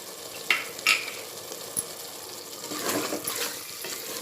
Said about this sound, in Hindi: अब मैं इसको मसाले में भूनूंगी।